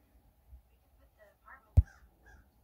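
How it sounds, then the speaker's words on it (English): A single sharp bird caw rings out at a Halloween night party, brief and fairly close, standing alone against quiet background murmur. "Scary bird."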